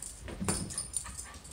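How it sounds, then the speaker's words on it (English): A dog gives a short, faint bark and whimper indoors, a single brief burst followed by quieter muffled sounds. "Don't want to listen to that barking."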